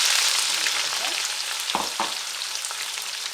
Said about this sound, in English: it's that sizzle that you want